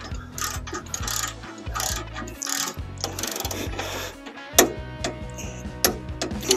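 A ratchet wrench tightens the bolts of a Blue Ox BXR2100 fifth wheel hitch to 45 foot-pounds, clicking in quick, steady bursts close by, with short pauses between strokes and a few louder metallic knocks near the end.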